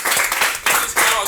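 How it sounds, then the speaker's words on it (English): Audience clapping at a school English club event, a dense burst of hand claps with brief dips, loud and close throughout. "let's clap our hands for Miss Nadej for this"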